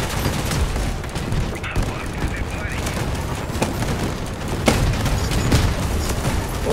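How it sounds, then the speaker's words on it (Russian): Artillery fire in the Crossout vehicle combat game, a dense, loud wall of rumbling booms with repeated sharper blasts and a few heavier hits throughout, steady from start to end. "Давайте, артиллерия подошла."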